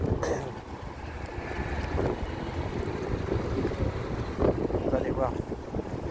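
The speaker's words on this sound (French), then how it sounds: "Il y a du vent." Strong outdoor wind buffeting the microphone in gusty low rumbles, with people talking over it.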